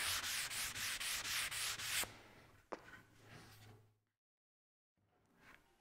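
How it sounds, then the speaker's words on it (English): Hand sanding veneer with 180 grit sandpaper, a rapid rhythmic back-and-forth scratching of about eight strokes that stops after two seconds, followed by a few soft knocks and shuffles, then near silence and a faint rustle. "do the planing with the rough sandpaper, the rougher sandpaper, in this case 150, and then do the finished sanding with 180"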